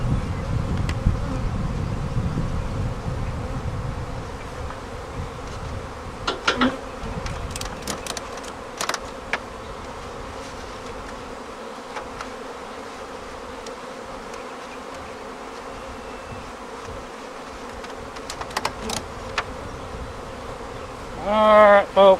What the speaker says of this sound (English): I got a lot of buzzing going over here on this hive.